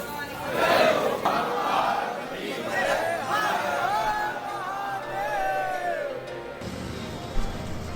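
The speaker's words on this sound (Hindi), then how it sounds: "शिव के जयकारों से पूरा जो मंदिर परिसर है वो गूंज उठा है" A large crowd of devotees chants and cheers praises of Shiva at a temple during the start of Savan and the Kanwar Yatra in Uttar Pradesh, with loud overlapping calls and rising, wavering shouts that echo, then drop sharply near the end.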